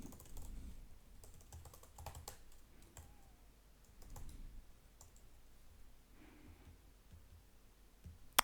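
Email and password being typed on a computer keyboard to register: faint, scattered key taps in uneven bursts over a low room hum, with a sharper click at the very end.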